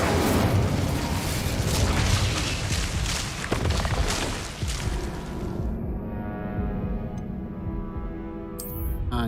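An Incendio fire spell cast in Hogwarts Legacy bursts out with a loud, broad whoosh and boom, then rumbles and crackles as it fades over several seconds, with a ringing tonal tail near the end.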